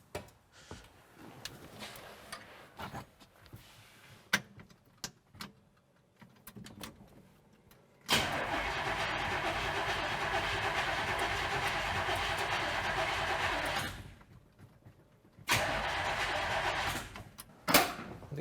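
A 1965 Chevrolet Impala engine, unused for ten years, cranks in two long, steady churning bursts with quiet clicks and pauses between them.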